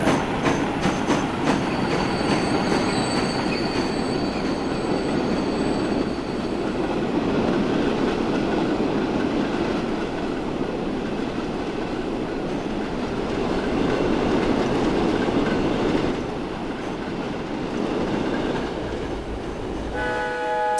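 A train runs through countryside in the game Transport Fever 2, a loud continuous rolling rumble with wheel clatter, tonal horn-like notes early on and a brief horn sounding near the end.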